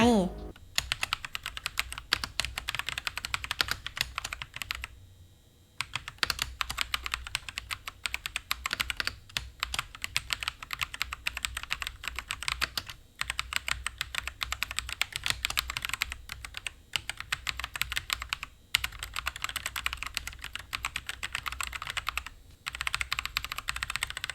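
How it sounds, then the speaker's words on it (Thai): Rapid, continuous clacking of a Signo KB-731w MAXXIE mechanical keyboard with brown switches being typed on, dense keystrokes with a few brief pauses, close and clear. "นี่ก็จะเป็นการทดสอบเสียงของคีย์บอร์ดตัวนี้นะคะ ว่าเสียงจากบราวสวิตเนี่ยจะเป็นยังไง"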